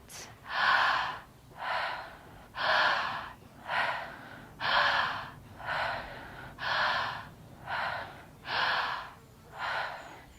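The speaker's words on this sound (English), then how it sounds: "Then we take a breath in. Exhale, let it go." Steady breathwork exercise with ten strong, even breaths, each a loud airy rush about a second long separated by short pauses, close to the listener and alone.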